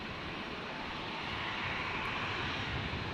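A Delta jet airliner taking off from runway 01 at Brisbane International Airport gives a steady, loud, broad engine roar that holds constant throughout with no talking.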